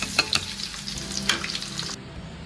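Eggs frying in leftover masala in a pan, a steady close sizzle with a few clicking utensil taps early on, the frying continuing alone until it drops away near the end.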